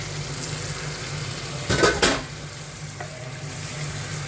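Fish frying and sautéing in hot spices in a pan, a steady sizzle with a brief burst of louder stirring and scraping in the middle, close and alone.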